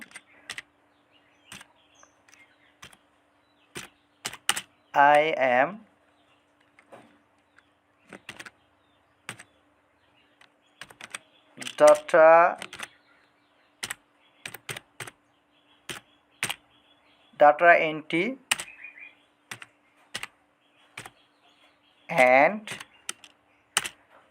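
Short bursts of clicks from a computer keyboard as someone types, close and fairly quiet, with a voice speaking in the pauses between them.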